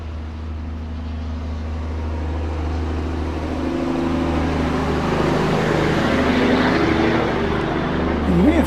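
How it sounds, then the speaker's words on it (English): A JetBlue Airbus A320 at Owen Roberts International Airport on Grand Cayman produces a steady, building jet engine roar that grows louder toward the end, heard over outdoor ambience without talk. "We're waiting on JetBlue, an Airbus A320."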